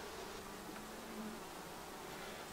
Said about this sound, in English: Loaded with bees. Look at all them bees.